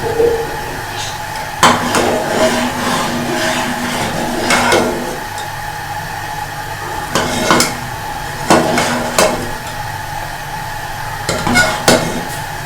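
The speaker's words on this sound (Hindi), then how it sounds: "इसमें हमने मुसलसल चम्मच हिलाना है, वरना तो इसमें गुठलियाँ बन जाती हैं।" A spoon scrapes and clinks against a pan while custard is stirred continuously, with repeated sharp metallic knocks at irregular intervals over a steady cooking background.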